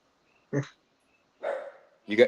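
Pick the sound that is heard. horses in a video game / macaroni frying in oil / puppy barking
puppy barking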